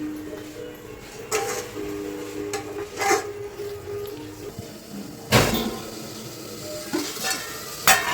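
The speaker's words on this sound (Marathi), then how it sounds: "आता मसाला छान परतवून झालेला आहे बघा किती छान तेल सुटलं आहे सगळीकडे" Masala sautéing in oil in a home pan, a soft steady sizzle broken by a few sharp scraping stirs of the spoon against the pan, close by, with no talking.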